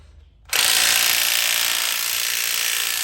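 An impact wrench removes spring compressors from a Holden VT–VZ Commodore front strut during a shock rebuild. A brief quiet lead-in gives way to a loud, steady, close mechanical whir that runs to the end.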